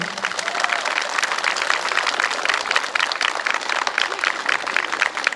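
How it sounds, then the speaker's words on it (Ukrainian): Loud, sustained applause from a concert audience at the gala opening of a regional folk choreography festival in Staryi Sambir. Dense, even clapping fills the whole stretch with no speech over it. "Я хочу, щоб всі гучними оплесками подякували нашим хлопцям."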